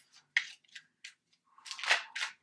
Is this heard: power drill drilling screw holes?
no